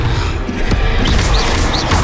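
A Confringo blast spell exploding in Hogwarts Legacy, a loud crashing impact amid dense, continuous combat noise with rumbling lows and brief bright zips, no pauses.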